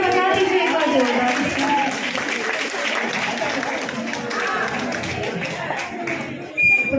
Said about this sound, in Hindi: तालियां बजा दीजिए एक बार जोरदार